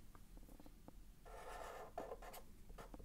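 Pen or marker scratches across a board in short strokes, then a longer run of drawing, quiet and close with no talking.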